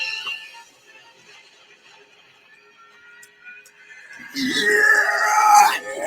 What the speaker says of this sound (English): The Wilhelm scream.